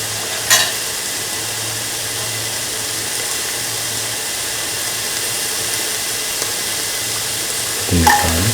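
Shallots fry in a pan with a steady, broad sizzle, a couple of brief clatters of stirring at the start and end, moderately close with no talk.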